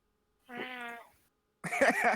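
A cat gives one clear, tonal meow up close, then after a short pause a second rougher, louder yowl.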